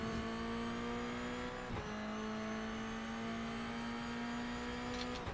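Race car engine at Bathurst in the iRacing sim, a loud steady whine climbing in pitch, cut by a brief gear shift before building again through the rest of the run.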